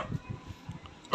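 A dog barks indoors, with a few muffled, low barks early on and then one sharp, louder bark right at the end.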